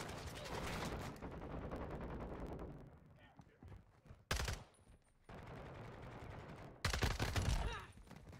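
Automatic gunfire in a first-person shooter video game, likely from an MP5 submachine gun, comes in rapid, loud bursts: a long stretch of sustained fire, then sharp separate blasts mid-clip and near the end, with voices faintly audible at times.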